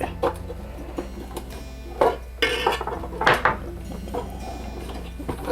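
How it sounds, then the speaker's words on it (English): Light clicks, scrapes and knocks as a screwdriver pries a home movie machine's case up out of its socket, a few sharper taps standing out against quiet background hum. "Just sort of lift the case up out of its socket and push it"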